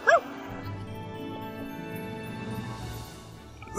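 A cartoon dog in an animated Vietnamese folk tale gives a short bark-whimper at the start, followed by softer whining over a quiet music bed.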